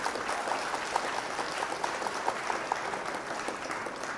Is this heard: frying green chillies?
no